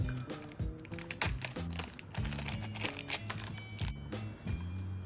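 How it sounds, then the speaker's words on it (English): Small plastic bag crinkling as spare hands for a Max Factory Good Smile Company Alice figure from Nikke are pulled out, a run of close, crisp rustles and light clicks in quick irregular bursts. "we got the hands out of a little plastic bag there"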